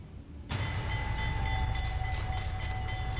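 A train rumbles through the Laredo rail yard, starting abruptly after a quiet moment and then rolling on loudly and steadily with a sustained metallic whine riding over the low clatter.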